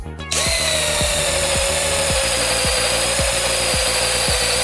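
A Milwaukee M18 ONEDD2 cordless drill-driver bores into material with a steady, loud motor whine that starts abruptly and holds, with repeated low thumps and bit chatter running beneath the drilling.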